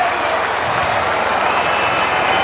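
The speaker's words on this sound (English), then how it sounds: "Predominantly cheers" Steady roar of a cricket crowd cheering and applauding at a Commonwealth Games women's T20 semi-final between England and India, a dense continuous wash of many voices and clapping with no single voice standing out.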